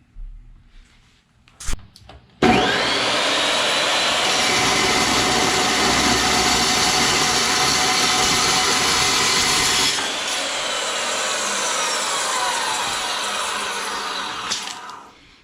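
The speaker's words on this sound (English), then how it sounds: "This is going to be real time cutting this next piece." Steel being cut for a 6x9 to 6x11 trailer conversion: after a few brief knocks, a loud continuous harsh cutting roar holds steady for about twelve seconds, shifts tone slightly, then cuts off.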